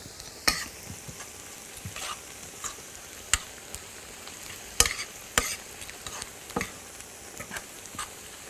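Onions with curry and butter sizzle softly in a pan while a spoon stirs them, giving scattered sharp scrapes and clicks over a steady low frying hiss, close and fairly quiet.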